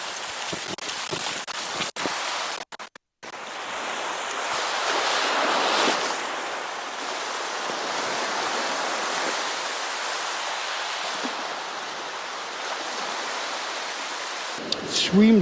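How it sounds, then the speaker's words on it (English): Surf rolls and breaks continuously on a shallow beach at Sandend as the tide races in, a broad steady wash of waves with wind, and a few clicks and handling noises at the start. "Right, tide's just racing in."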